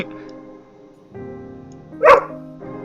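A dog barks once, a short sharp burst standing out against a steady low hum and quiet background noise.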